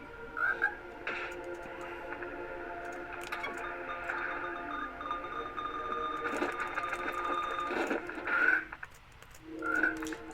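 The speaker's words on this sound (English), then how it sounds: "That's a good annoying noise of the mines waiting to blow up." Electronic beeping and buzzing of mines waiting to blow up in the video game Gato Roboto, a steady tonal drone with chirping blips and bursts, heard alone without talk.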